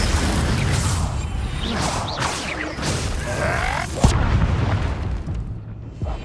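An Incendio fire spell goes off in the Hogwarts Legacy video game, a booming whoosh with crackling bursts and a sharp impact hit, layered over steady game rumble.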